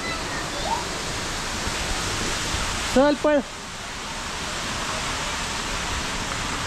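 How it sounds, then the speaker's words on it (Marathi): Loud, steady rushing water at Lonavla, a broad roar of falling and splashing water filling the whole clip, with a brief shout and a short burst of voices near the middle. "खूप पाण्याचा आवाज येत असेल, थोडं सहन करा."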